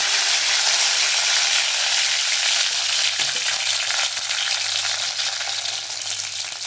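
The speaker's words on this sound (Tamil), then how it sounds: "இப்போ நம்ம கருவேப்பிலை சேர்த்துப்போம்." Curry leaves fry in hot oil with a loud, continuous, close sizzle and crackle that holds steady throughout, with faint stirring noises and no speech.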